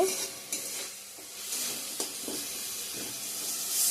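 Fried spice masala for an egg curry with potato and cauliflower hisses steadily in hot oil while a spoon scrapes and stirs through the pan in several brief strokes, close and fairly quiet, with no talking.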